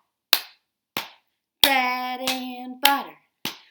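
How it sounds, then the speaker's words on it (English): Sharp hand claps alternating with pats on laps mark a storytime chant, about six crisp strikes spaced roughly half a second apart, with a voice chanting the rhyme over the middle strikes. "It starts with a clap of the hands and a pat on our laps."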